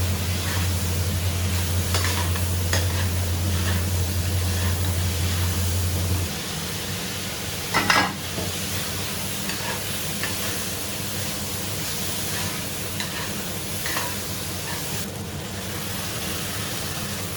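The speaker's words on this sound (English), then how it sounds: "After continuous stir frying" Food, garnished with chopped scallions, sizzles and hisses steadily as it is stir-fried in a hot pan, with a low hum that stops partway and a brief clatter of stirring.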